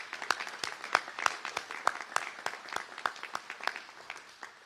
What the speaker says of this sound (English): How about a big round of applause for everybody here that has made this happen?